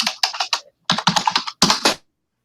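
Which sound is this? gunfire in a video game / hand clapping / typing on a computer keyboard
typing on a computer keyboard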